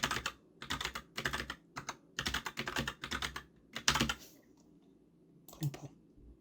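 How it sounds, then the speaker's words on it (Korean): Clicks from a computer keyboard, with bursts of rapid typing followed by a few isolated key presses, close and clear. "저 같은 경우는 이렇게 엔터를 눌러주시면 되고요"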